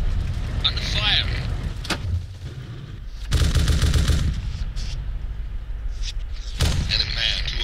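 Gunfire crackles in a military simulator video game, loud bursts of shots and heavier booms breaking out in clusters over a rumbling vehicle-like background, with occasional voices.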